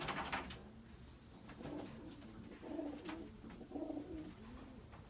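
Several pigeons coo in repeated low, throaty phrases, roughly once a second, close by in a loft crowded with birds, with no voices over them.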